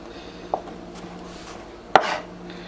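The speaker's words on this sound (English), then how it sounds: "I'm slicing and dicing" A knife chops garlic cloves on a board in a home kitchen with two distinct, crisp strikes about a second and a half apart, leaving only quiet room tone between them.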